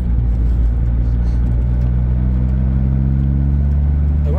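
Smart car being driven on a country road at about 38 mph, its engine and tyre rumble a steady, loud drone from start to finish with no talking.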